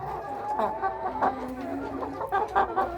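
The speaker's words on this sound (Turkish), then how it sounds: "Atak tavuğu biraz hırçın bir tavuk." A feisty Atak hen clucks in a coop among a flock of chickens, a few short uneven clucks at moderate distance over a quiet, low background.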